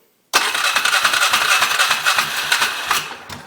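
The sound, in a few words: Polaris Sportsman 500 ATV engine starting and idling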